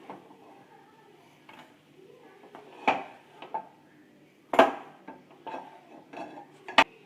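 Cooked wheat flour dough is scraped and moved from one pot into another, making a few sharp metallic clanks and spoon scrapes against the vessels, close by, separated by quieter gaps.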